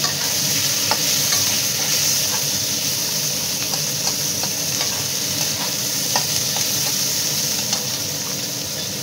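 Onion fries in white oil with cumin seeds in a pan. A dense, loud, steady sizzle and crackle runs the whole time with occasional light stirring clicks, and no one speaks.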